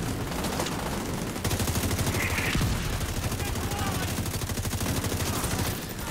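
Rapid pistol gunfire in The Division 2, loud steady volleys of shots throughout, with people talking over the shooting.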